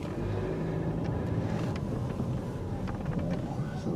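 A Subaru car drives along after a lost wheel was refitted, giving a steady low engine and road rumble with some wind noise, close and continuous throughout the short stretch with no talking.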